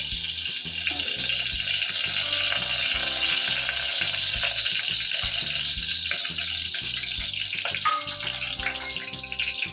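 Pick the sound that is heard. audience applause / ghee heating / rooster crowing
ghee heating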